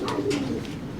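Racing pigeons in a Nueva Ecija club loft give a soft, close cooing call, one brief low murmuring coo lasting about a second.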